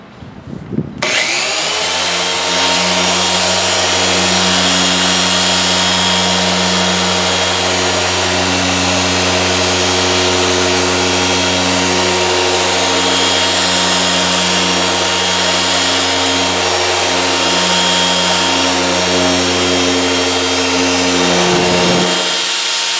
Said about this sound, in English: speed up the machine to about speed 5, and I'll show you my arm speeds and how I work this fine polish with a small throw orbital